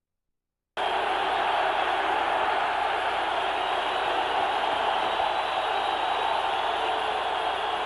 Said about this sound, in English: This crowd trying to spur the Raiders.